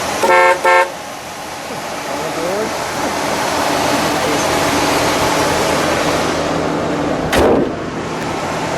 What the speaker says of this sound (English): Hold that horn for a second.